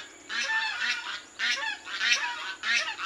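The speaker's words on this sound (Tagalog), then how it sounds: "maingay ang gansa" Geese honking loudly in repeated bursts of harsh, overlapping calls, close by, with brief pauses between the flurries.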